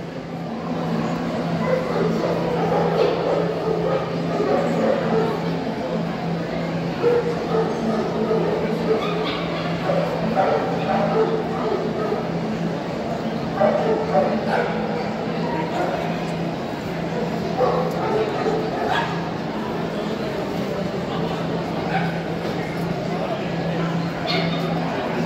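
Dogs at a European championship dog show in Budapest give occasional short yips and barks amid a steady crowd and hall hubbub, while a judge examines a dog and people talk throughout.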